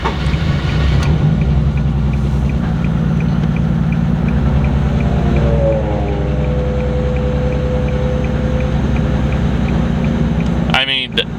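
A Nissan 370z with a swapped VR30 3.0T engine runs steadily at close range, a loud sustained drone with a faint rising whine midway, ending in a brief burst of noise.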